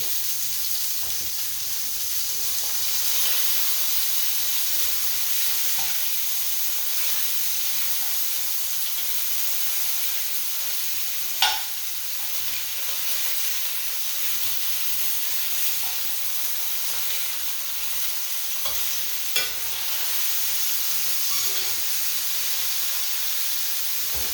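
Ground beef sears in a hot pan with a steady, close hissing sizzle that hardly changes, broken by a couple of brief pops.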